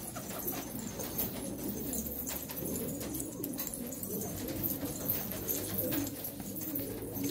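Several pigeons coo softly and repeatedly near an outdoor loft, their low murmuring calls layered into a continuous background.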